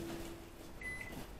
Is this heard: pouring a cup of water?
no